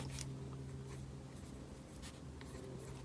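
Soft scratching of a pen on paper in a planner, close and quiet, a continuous light scribble over faint background hum.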